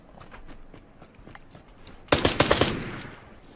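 Glock 18 automatic pistol fire in the battle-royale game PUBG: a sudden loud burst of rapid shots lasting about a second, preceded by faint footsteps and softer distant rattle.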